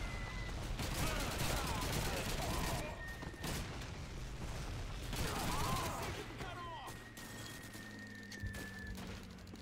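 Call of Duty 2 gunfire at Pointe du Hoc on D-Day: dense, loud bursts of rifle and machine-gun fire crackle almost nonstop, with distant booms mixed in, while someone talks intermittently over the battle.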